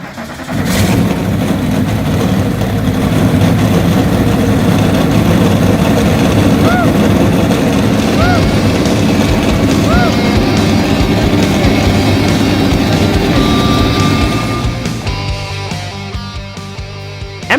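Engine roar for a NASCAR-style marble race opening, a loud sustained mid-range engine drone with revving swells after an abrupt start, holding steady before dropping away near the end.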